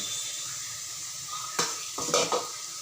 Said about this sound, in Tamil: இப்போ இதையே நல்லா கூட சேர்த்து வதக்கிக்கலாம்